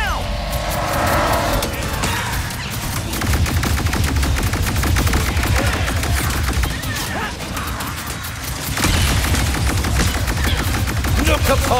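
Rapid weapon fire rattles on in Ratchet & Clank: Rift Apart during the grand finale boss fight, a loud, continuous stream of rhythmic shots with brief lulls, layered over engine-like roaring and occasional game voices.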